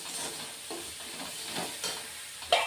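Coriander powder and red chili powder sautéed in a pan, with a soft continuous sizzle and a few scraping stirs of a spoon, steady and close with no talking.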